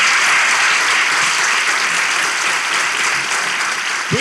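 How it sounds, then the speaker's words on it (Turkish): Sustained studio audience applause closes a Turkish relationship-quiz talk show, a dense, loud wash of many clapping hands that holds steady throughout before a voice briefly starts at the very end. "Alkışlarla bay bay!"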